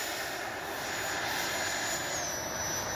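An FMS Futura 80mm electric ducted-fan RC jet with its gear up, producing a steady, continuous whine and rushing roar that holds level throughout without pause, with no voices over it.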